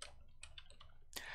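Keys clack on a computer keyboard in a quick, faint run of separate taps, close by and quiet, with no voices over them.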